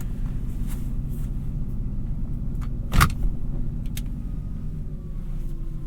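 A 2021 Nissan GT-R engine runs with a steady low rumble heard from inside the car, and a brief sharp click or clunk cuts through the drone midway.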